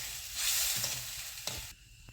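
Green bean and peanut curry cooking in a pot on full flame, a faint soft sizzle with brief stirring scrapes and a couple of light knocks, heard alone.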